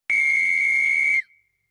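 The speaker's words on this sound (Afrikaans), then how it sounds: "'n Fluitjie." A single shrill, short whistle blast, loud and steady for about a second before cutting off abruptly.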